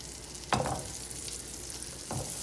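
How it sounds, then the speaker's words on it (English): Butter and olive oil fry in a hot pan with a steady close sizzle, broken by two sharp stirring or scraping bursts as food is moved around. "Gotta make sure you have that sizzle going."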